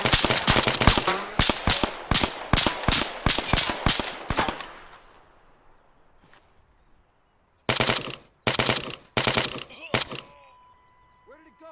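In ArmA 3, rapid bursts of automatic gunfire crack loudly in quick succession, fall silent, then return in several short volleys.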